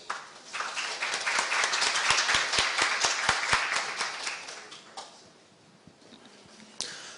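Audience applause at a business seminar welcoming an editor-in-chief to the stage, a dense burst of many clapping hands with some distinct sharp claps, swelling then fading out after about five seconds.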